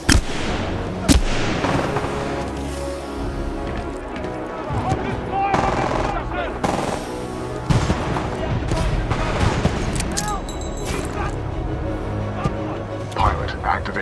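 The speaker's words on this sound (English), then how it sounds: "Commencing supporting fire." Supporting weapons fire from a Titan in Titanfall 2, a loud continuous barrage of heavy gunfire and blasts with bursts of explosions, mixed with game voices and combat noise.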